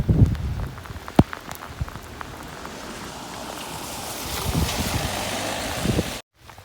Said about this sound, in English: in Sheringham, where, imagine my shock, it's raining